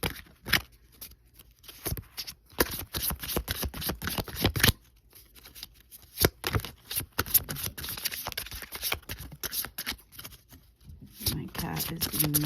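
A deck of tarot cards is shuffled close up by hand in quick, crisp bursts of riffling and slapping, with short pauses between rounds and soft handling noises.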